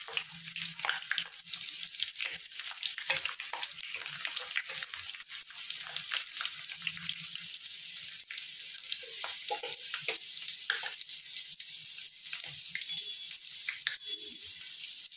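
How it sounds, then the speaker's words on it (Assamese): Dried chillies, crushed ginger and chopped garlic fry in a pan for an olive pickle, giving a steady, close hiss and crackle with faint stirring scrapes underneath and no voices. "এইখিনি অলপ সময় ভাজিব লাগিব।"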